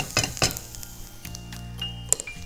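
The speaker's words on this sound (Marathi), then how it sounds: "तर ती दालचिनी घेतली आहे, तर ती देखील आपण मस्त परतून घेऊ यामध्ये" Star anise and cinnamon sauté in a pan for chili pepper pork, with a soft sizzle broken by a few sharp clinks and scrapes of a metal spoon against the pan.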